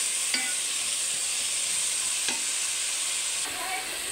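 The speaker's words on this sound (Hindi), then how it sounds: "प्याज दरमियाने साइज़ के 2 काटे हैं, इनको भून लेते हैं। और साथ ही इसमें ना खड़े मसाले भी साथ ही ऐड कर देने हैं हमने।" Two medium chopped onions fry in hot oil with whole spices for kaleji, a strong steady sizzle running close throughout, broken by a couple of faint stirring taps.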